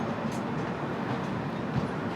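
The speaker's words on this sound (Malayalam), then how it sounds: "ഇത് കൊങ്കൺ റെയിൽവേയുടെ തന്നെ പഴയ ഡെമോ ആണ്" An old Konkan Railway DEMU, the line's first, once an ordinary three-coach set and later converted, gives a steady, close, broadband rumble with no breaks or horn.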